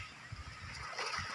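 Water splashes and sloshes close by as a person bathes near the sea, a short, soft burst of irregular splashing.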